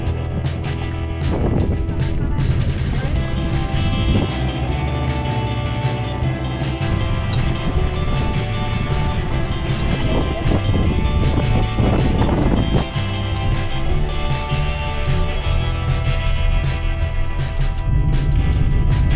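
Strong wind outdoors on an island, buffeting the microphone in a loud, constant roar with rumbling low gusts throughout and no voices heard.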